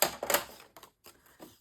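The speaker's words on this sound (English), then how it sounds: "On the 2¼ inch side, I'm going to score this at 1/2 inch." Cardstock being scored at a half inch on a scoring board for a coffee-and-chocolate mini album, heard as a few short, crisp scraping strokes close by with brief pauses between them, and no voices.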